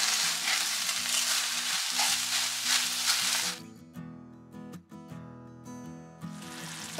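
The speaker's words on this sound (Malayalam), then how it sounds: "ഇനി നമുക്കിതിലേക്ക് പഞ്ചസാര ഇട്ട് കൊടുക്കാം. ഇളക്കിയിട്ട് ഈ പഞ്ചസാര ഇപ്പം ഇതുമായിട്ട് യോജിച്ചു വരണം." Sugar is stirred into cooking sago for a chavvari kesari Diwali sweet, making a loud, hissing, frothy sizzle with stirring for about three and a half seconds before it cuts away to music.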